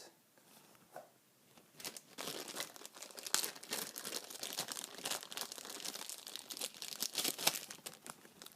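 Thin plastic bag crinkling and rustling as a Magpul K2+ AR15 pistol grip is unpacked from its box, a close, busy run of crackles that builds after a quiet start and continues steadily with no talk.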